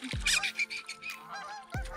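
Several loud goose-like honks from ducks at a lake, repeated in an irregular series, with a couple of low thumps at the start and end.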